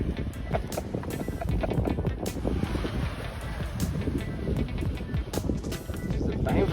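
A 4x4 off-road vehicle ploughs through a river, giving a continuous churning rush of water and engine rumble with splashes and wind buffeting the microphone throughout.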